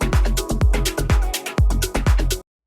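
A melodic house remix plays with punchy kick drums and a bouncy bass groove in a steady rhythm, then cuts to silence.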